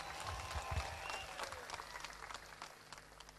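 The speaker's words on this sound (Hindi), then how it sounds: "एक बार पूरे दोनों हाथ उठा के जोरदार तालियां बजा के मुझे बता दीजिए" A college event audience at IET Alwar claps together on request from a poet on stage, a soft, distant wash of hand-clapping heard continuously for a few seconds at low level.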